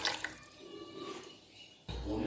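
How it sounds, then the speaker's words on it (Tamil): Water poured into a cooking pot while making egg biryani, a steady close pour running for about two seconds, then a louder, fuller gush near the end. "இப்போ 2 கப் தண்ணி ஊற்றிக்கலாம்."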